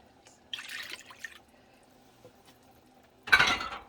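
Half and half cream poured into chicken tetrazzini in a pan, a soft liquid splash and trickle, faint and close, followed by a louder wet burst near the end.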